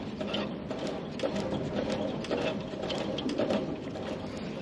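Ratcheting wrench tightening nuts on farm equipment, a steady run of rapid metallic clicks close by, continuous and moderately loud over a mechanical background.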